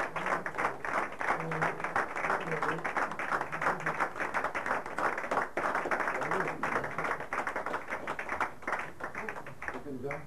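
Dense, continuous applause from an audience at a video game award ceremony, with a person talking over the clapping throughout.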